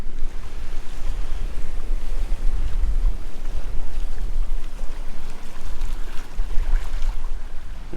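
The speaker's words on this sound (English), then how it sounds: "you can hear the surf out there breaking on the barrier reef" Surf breaks on a distant barrier reef along a remote stretch of the Ningaloo coast, a steady broad roar of waves mixed with gusting wind buffeting the microphone.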